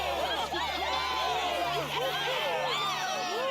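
An opera house crowd in the video game Genshin Impact, many voices cheering and shouting together in a steady, moderately distant roar that holds for the whole stretch.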